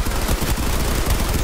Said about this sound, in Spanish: el rafagueo de disparos también destruye lo que es la construcción